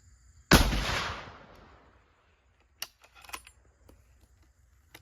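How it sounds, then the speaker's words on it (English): A single Remington 1903A3 bolt-action rifle shot fired outdoors at a range, a loud sharp crack with a long decaying boom, followed by a few faint clicks and clatters of handling. "Just take one confirmation shot here."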